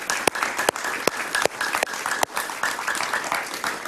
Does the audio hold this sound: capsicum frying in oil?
no